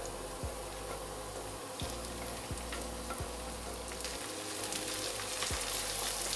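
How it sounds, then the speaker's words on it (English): Crushed ginger and garlic hit hot oil in a frying pan for a chicken sausage masala, giving a steady, dense sizzle throughout with a few faint clinks of stirring. "Now you add in the ginger and garlic mix."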